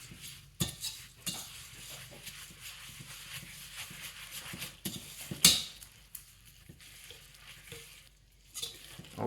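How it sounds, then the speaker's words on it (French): Cake batter with vanilla is mixed in a bowl, an irregular series of soft scrapes, clinks and knocks of a utensil against the bowl, with one sharper clatter midway, fairly quiet and without talk. "Je mélange."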